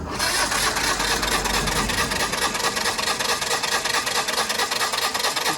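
An engine being cranked after re-priming the fuel pump, a rapid rhythmic churning starter grind that continues steadily and loudly without catching.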